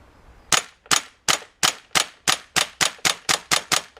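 A WE SMG-8 airsoft gun fires eleven sharp, close shots in a steady, fairly quick rhythm, each with a crisp metallic snap and short ring, heard alone without talk.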